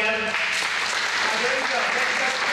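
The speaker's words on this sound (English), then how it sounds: "Have a little round of applause for everybody, Ev." A church congregation breaks into a short burst of applause, dense clapping with a voice briefly mixed in at the start.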